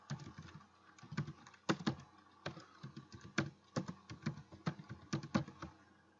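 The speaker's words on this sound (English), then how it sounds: "Now we're going to type in here." Typing on a computer keyboard, with irregular bursts of close, crisp key clicks and taps separated by short pauses.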